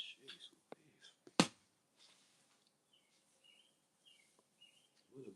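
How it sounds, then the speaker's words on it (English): Small birds chirp faintly in the distance, thin high calls repeating sparsely, with a sharp close click or snap early on and low background noise. "what a blessing to be able to hear the bird chirp."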